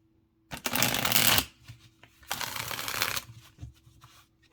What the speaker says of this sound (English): So I try to do a minimum of 6 shuffles